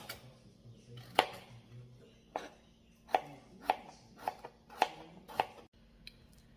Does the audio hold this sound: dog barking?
no